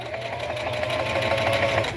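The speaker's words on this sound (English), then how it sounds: "that's why I love this sewing machine. This sewing machine, it goes over thick stuff" A sewing machine stitches steadily through thick layers of placemat fabric while a tote bag is sewn, giving a close, continuous mechanical whir with a rapid rhythmic needle knock throughout.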